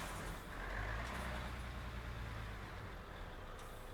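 A Mercedes Actros MP2 truck in Euro Truck Simulator 2, driving through the Middle East, hisses its air brakes over a loud, steady engine rumble that continues for the whole stretch, with no talking.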